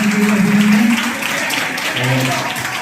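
Applause from the crowd at an IAS academy's foundation day ceremony rolls on steadily under a voice speaking over the clapping.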